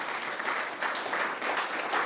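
Short burst of dense audience applause at a business leadership event, even and continuous throughout.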